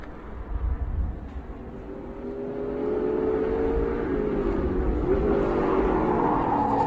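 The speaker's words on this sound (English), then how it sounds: "Number 55, chased like a bat out of hell. 35 machine, Sam Yudalmas on his tail of Yongbun." Touring race cars speed along a circuit, their engines rising from a distant rumble into a sustained loud whine and drone as they close in and pass.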